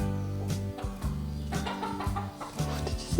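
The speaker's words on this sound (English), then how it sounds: "Scared the chickens off." Several chickens cluck inside a barn, a steady layered run of short nearby calls with some louder bursts, set against a thick, busy background.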